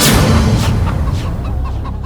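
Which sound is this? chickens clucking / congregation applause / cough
chickens clucking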